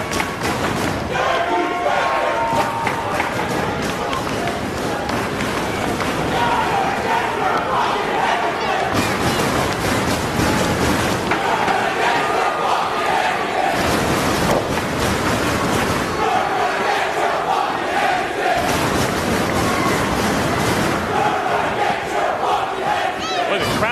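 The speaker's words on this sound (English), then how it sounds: "the crowd is as into this match as I've seen in a long, long time" Dense wrestling arena crowd at a Ring of Honor match between Bryan Danielson and Roderick Strong, roaring, cheering and chanting continuously, with rhythmic chant bursts swelling and fading over the steady loud din.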